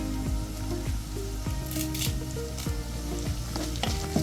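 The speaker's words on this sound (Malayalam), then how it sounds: "നന്നായിട്ട് ഇളക്കാം ഇതൊരു ഗോൾഡൻ ബ്രൗൺ കളർ ആവുന്നത് വരെ നമുക്കിതൊന്ന് വഴറ്റാം" Shallots and curry leaves sauté in hot oil for a fish curry, sizzling steadily up close while a spoon scrapes and stirs the pan at a regular pace.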